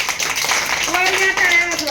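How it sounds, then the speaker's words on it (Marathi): Children clapping their hands during a group concentration game, a short burst of close, brisk claps, while an adult voice and some chatter are heard over them. "चला हात खाली घ्या. टाळ्या वाजवा."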